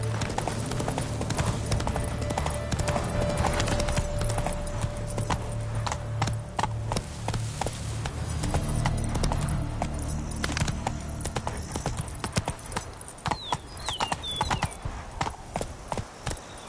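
Galloping hooves of Roach, the horse in The Witcher 3: Wild Hunt Blood & Wine, pound in a steady rhythm for a long stretch, with some clinking tack, thinning into scattered hoofbeats near the end.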